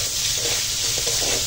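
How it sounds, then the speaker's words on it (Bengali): Pumpkin frying in oil with a dried red chilli tempering, a loud, close, steady sizzle with some stirring texture and no talk. "তো এখন এই শুকনো লঙ্কার ফোড়নে মিষ্টি কুমড়োটা রান্না করব।"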